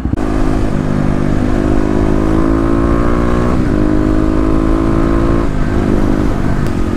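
A Kawasaki KLX 250 single-cylinder motorcycle engine runs close by, a loud steady thumping drone with brief blips of throttle that shift its pitch twice, no voices.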